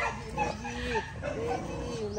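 Dog at a park yips, whimpers and gives short excited barks in quick bursts, close and fairly loud, with people talking around it.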